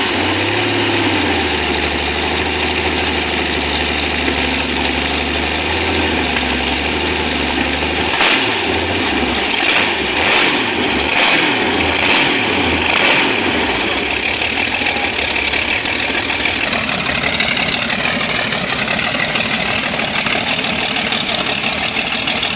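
A rare old German tank engine of the type that powered the Panther and King Tiger idles with a deep, steady throb. Midway it gives a run of five or six sharp, evenly spaced knocks, then settles into a rougher, louder running note, close and with no voices.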